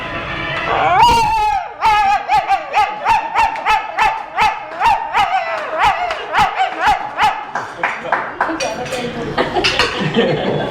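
Stray street dogs yelping and barking in a rapid, high-pitched run of about twenty sharp calls, loud and close, continuing almost without pause with a faint whine at the start.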